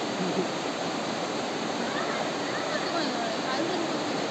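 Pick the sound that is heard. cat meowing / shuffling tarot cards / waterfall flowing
waterfall flowing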